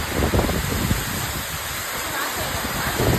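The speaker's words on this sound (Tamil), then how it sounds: "இந்த மாதிரி ஒரு மழை பெய்யுட்டு இது வரைக்கும் பார்த்ததே இல்லை" Heavy rain pouring during Cyclone Fengal, a steady loud hiss of downpour with splashing and some wind buffeting on the microphone, no clear talk over it.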